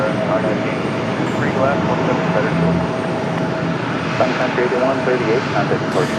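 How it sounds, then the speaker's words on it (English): American 174 Heavy, an airliner, holds at the end of the runway at Raleigh-Durham International with its jet engines running in a steady broadband roar and a constant whine, loud and continuous throughout. "American 174 Heavy out at the end of the runway, getting ready to make their way out."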